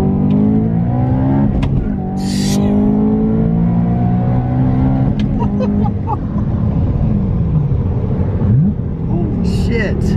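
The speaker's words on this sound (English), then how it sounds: "A little second gear pull here" A supercharged BMW E92 M3 pulls hard in second gear, its engine note rising steadily with a climbing whine, loud and close from inside the cabin, with passengers talking over it.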